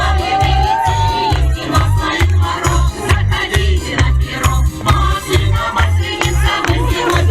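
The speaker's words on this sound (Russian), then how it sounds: "Бурные аплодисменты." A festival crowd at a Maslenitsa celebration in Yakutsk cheers and claps after a Russian folk dance contest, loud and continuous, with a pounding rhythmic beat of music running underneath and whoops rising through the noise.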